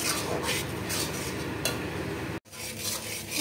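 Spoon scraping and stirring a mixture frying in a kadai over a medium flame, a steady close rasp of metal on metal with a soft sizzle beneath, briefly pausing before resuming.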